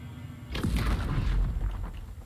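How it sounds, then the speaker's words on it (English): A concussion bomb bursts against a stone wall in the fantasy role-playing game Pillars of Eternity II, giving one sudden loud boom that rolls into a long rumbling, crumbling tail of falling debris. "Blow it up with a bomb!"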